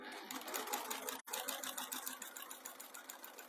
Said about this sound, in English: And I'm going to stitch, it's kind of about 1/4 of an inch, all the way down right to the very end here.